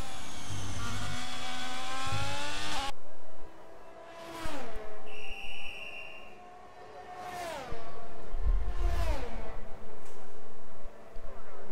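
Race car engine at Imola in a racing video game, whining high and loud as it revs up and drops through repeated gear shifts, with brief quieter gaps.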